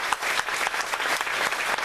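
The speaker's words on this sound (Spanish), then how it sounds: "Así que les pido un fuerte aplauso y se los agradezco." A panel audience at a feminism talk claps in a brief, loud burst, with sharp individual hand claps over a dense crowd wash and no voices.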